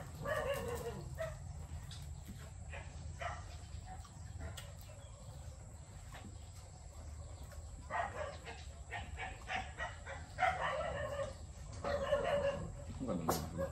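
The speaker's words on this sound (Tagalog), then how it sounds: "Aso ng kapitbahay." A neighbor's dogs bark in scattered bursts at moderate distance, with roosters or other fowl and birds calling nearby and people talking through much of the scene.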